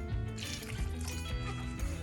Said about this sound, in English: And then I take my water, pour a little bit in at a time.